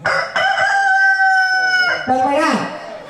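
A rooster crows once, loud and close, with a long drawn-out held note, then clucks and squawks briefly at the end. No one speaks over it.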